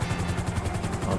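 A helicopter hovers in the video game GTA V, its rotor chop a steady, rhythmic low pulsing held close and even throughout, with no voices.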